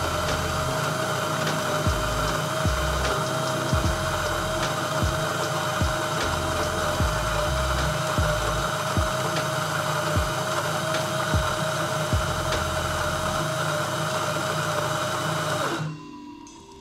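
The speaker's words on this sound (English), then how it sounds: "Let's just grind 17 seconds, should be 20 grams." Electric grind-on-demand coffee grinder working through 20 grams of beans, a loud steady whirring motor with crackling bean-crushing bursts for about sixteen seconds before cutting off abruptly.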